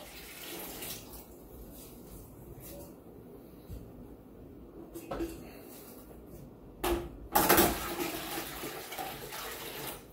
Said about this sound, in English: we can add a lot more water to this bucket before it begins to crunch these eggs